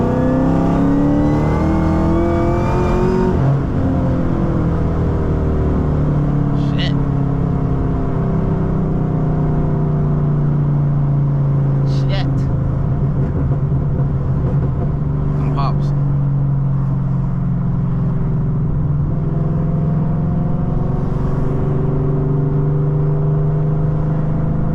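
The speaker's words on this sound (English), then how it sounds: "Let's do a third gear pull." Supercharged Chevrolet Camaro ZL1 accelerating hard in third gear from inside the car, engine and supercharger whine climbing steadily in pitch, loud and continuous, with a voice heard at the start.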